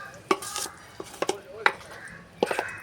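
Vegetable papaya mixture tipped from a pan into a plate, with a few sharp metal scrapes and clinks of a utensil against cookware in short irregular bursts, close and moderately loud.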